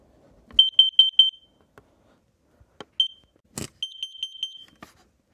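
A Kidde carbon monoxide alarm sounds repeated sharp high-pitched beeps in quick bursts of four, with short pauses and a couple of faint clicks between them, loud and alone with no talking.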